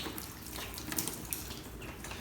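Water poured onto a ceramic-coated car panel, a close, steady splashing trickle with a few brighter spatters.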